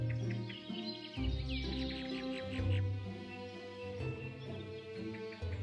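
Several birds call and chirp in a lively mix of short whistles and trills over a low background rumble in rocky country at Hampi, India, in late afternoon, with no voices.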